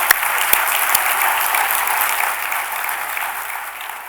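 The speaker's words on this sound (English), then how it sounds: "Let's give them another round of applause." Another round of full applause from a conference audience at a regional planning State of the Region event, loud dense clapping that slowly fades toward the end.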